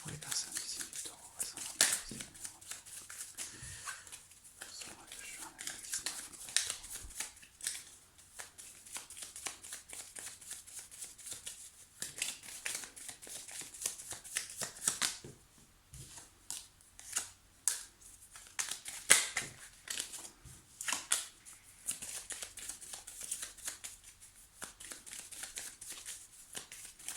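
Tarot cards being shuffled and cut by hand, soft rustling and crisp riffling bursts scattered through the stretch, with a French-speaking voice talking over much of it.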